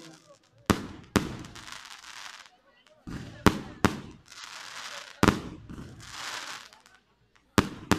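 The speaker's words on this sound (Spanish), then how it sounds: "Gracias también al señor Ismael García por estos bonitos fuegos artificiales." Fireworks explode in a night show at a festival for the patron saint San Sebastián in Madahuasi, sharp loud bangs recurring irregularly every second or two, each followed by crackling bursts and a trailing rumble.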